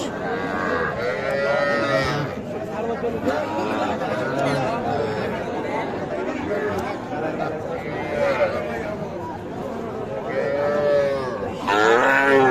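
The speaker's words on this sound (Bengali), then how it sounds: "দেখছেন এগুলো কিন্তু বাছুর" Young calves, bullocks and heifer calves at a crowded livestock market, low repeatedly with drawn-out moos, some near and loud, over a constant background of people chattering and bargaining.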